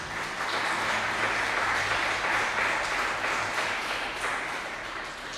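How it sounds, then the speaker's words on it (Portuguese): Congregation applauding during a church worship service, a steady, dense wash of clapping that holds for several seconds and eases slightly at the end, with a faint low hum underneath. "Palmas para o Senhor Jesus"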